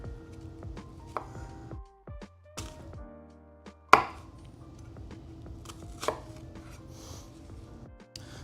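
Onions diced with a knife on a cutting board, close and quiet, with irregular taps and knocks and one sharper crack, no talking.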